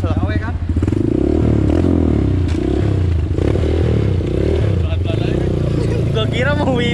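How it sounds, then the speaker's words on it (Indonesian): A modified Honda Mega Pro supermoto engine runs loud and close, its uneven rumble sputtering and surging from a knockoff carburetor, with rattling clatter, while someone talks over it. "Jadi ini motor ada berbet dikit keselak-selak, guys. Biasanya kalau karbu KW emang kayak gitu keselak."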